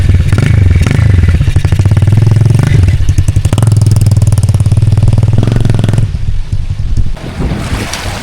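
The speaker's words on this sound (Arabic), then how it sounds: "غيدوز الموتور الدراري." Motorcycle engine running loud and close beside a river crossing in a forest, a steady low drone with rising and falling revs and wind buffeting the microphone, easing off toward the end.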